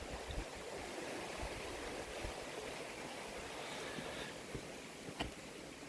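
The River Goyt flows steadily through its valley in a continuous broadband rush of water, heard outdoors at moderate distance with no voices.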